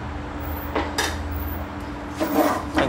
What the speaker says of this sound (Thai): ตั้งน้ำมันใส่กระทะนะครับเราจะเอาเครื่องแกงลงไปค่อยๆผัดนะครับ